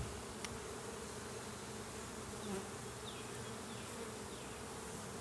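Honey bees buzzing in an open hive box during a Demaree swarm control inspection, a dense continuous hum that stays close and steady with no voices.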